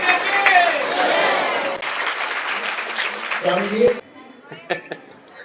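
Loud audience applause at a spiritual talk, dense clapping that fades after about four seconds into a few scattered claps while a voice speaks over it.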